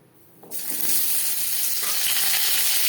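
Refined oil sizzles loudly in a pan before papaya goes in for frying, a dense, hissing crackle that bursts on suddenly and holds steady and close, with no talk.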